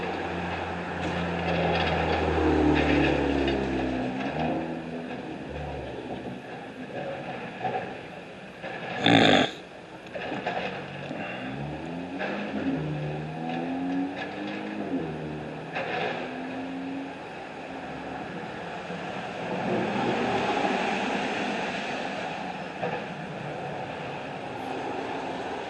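Bulldozers working at a construction site on Laurel Blvd, a steady low engine rumble with grinding, clanking track noise and shifting tones throughout, one sharp loud bang near the middle.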